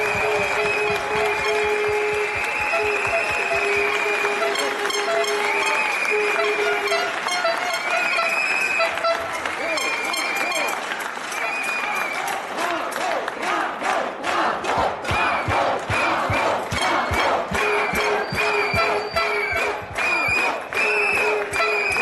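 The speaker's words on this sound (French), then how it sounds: "j'aimerais qu'on les applaudisse extrêmement fort" A large crowd at a protest against keeping the secondary runway at Bordeaux-Mérignac airport applauds loudly and cheers, with rhythmic clapping building up and whoops throughout.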